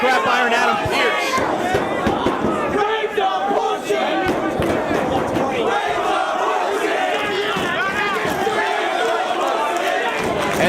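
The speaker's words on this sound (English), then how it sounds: "And the crowd getting on Pearce and Rave." A loud wrestling crowd at an indoor tag-team match jeers the wrestlers, a dense roar of shouting, booing and yelling voices that holds steady and close from start to finish.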